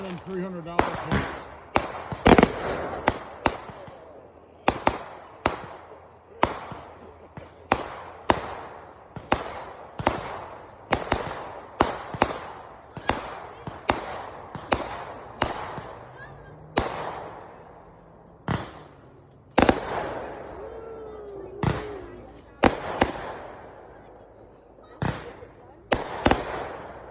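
Memorial Day fireworks bursting in a steady run of sharp, loud explosions every second or so, each with a crackling, echoing tail, while people chat and react between the blasts.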